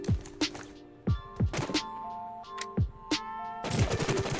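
An M4 rifle fitted with a compensator fires in Rules of Survival, with sharp single shots and short bursts at uneven spacing, each crack ringing briefly, ending in a denser run of rapid fire.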